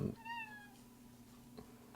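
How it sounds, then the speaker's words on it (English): A pet cat meows for attention in a room during a crochet session: one clear, drawn-out meow near the start, then a quieter short sound later, over a low steady background hum. "kitty is trying to get attention right now"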